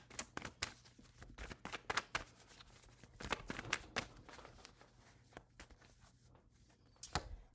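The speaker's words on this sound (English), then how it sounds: "I'm going to pull 4 cards." Tarot cards are drawn from a deck, giving soft, irregular flicks and shuffling slaps that are faint and close, with no voice over them.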